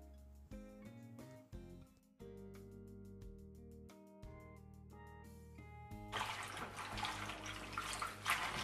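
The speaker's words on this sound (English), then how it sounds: "Now I'm going to be washing the ugu leaf and the water leaf" Ugu and water leaves being washed in water for edikang ikong soup, splashing and running water rising to a loud steady rush near the end, with tonal background music playing throughout.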